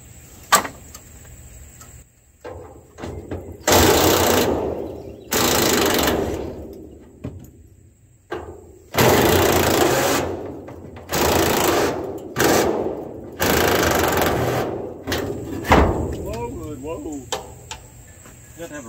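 An impact wrench works on the bolts of a 1964 Ford 390 FE engine during a Country Squire teardown. About seven loud, close, rattling bursts are separated by short pauses.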